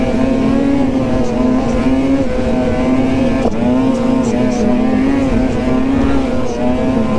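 A car engine is held hard on the gas while descending a mountain trail, producing a loud, close, steady high-revving drone throughout.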